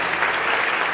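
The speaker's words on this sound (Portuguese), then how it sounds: "Dê aplausos a Ele." Church congregation applauding at a Baptist service, a dense, loud, continuous burst of many hands clapping without voices.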